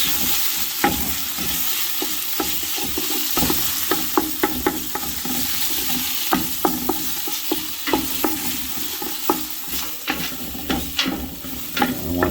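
A spoon stirs onion, garlic and paste into an Italian gravy sauce in a pan. Steady soft frying sizzle runs throughout, broken by repeated scraping and clacking strokes at an uneven rhythm.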